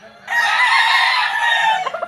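A single loud gamefowl rooster crow rings out close by on a gamefowl farm, one long drawn-out call ending in a few clipped notes.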